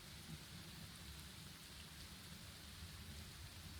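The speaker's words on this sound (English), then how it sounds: "I couldn't hear them very well over the downpour" Heavy rain pouring down in a steady, dense roar that never lets up, with low rumbling underneath suggesting distant thunder, heard alone without any voices.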